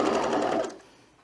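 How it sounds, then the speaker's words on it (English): A serger sews and trims a seam on a fleece pullover, giving a fast, close whir that runs for under a second and then stops, leaving a faint tail. "Because of the width stitch I have on my serger, I am trimming off a little bit."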